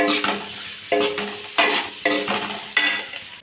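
A spoon scrapes and stirs through a thick mixture in a pot, in about five repeated strokes, with a soft sizzle underneath and no talking.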